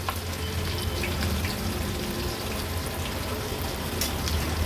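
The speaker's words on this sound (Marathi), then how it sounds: "ही भजी पुन्हा आपण याच तेलामध्ये लो टू मीडियम फ्लेमवर उलटपालट करून फ्राय करून घेणार आहोत" Crispy disco bhaji frying in oil over a low-medium flame, giving a steady, dense sizzle that runs evenly throughout with no pauses.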